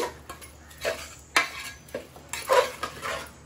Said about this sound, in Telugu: బాగా కలుపుకొని కొంచెం ఇవి బాగా ఫ్రై చేసుకుందామండి.